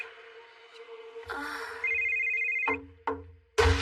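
A telephone rings in an anime scene, a few electronic ring bursts cut by sharp noises and background sound effects, loud and close.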